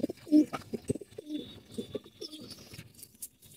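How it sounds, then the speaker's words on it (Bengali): Pigeons giving low, rolling coos close by, a few short calls in quick succession amid faint background chirps. "কবুতর গুলা দেখতে অনেক সুন্দর।"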